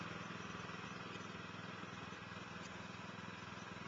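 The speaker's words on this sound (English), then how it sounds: "Start the engine." A greens mower engine running steadily with a low, even mechanical drone, fairly quiet and unchanging throughout.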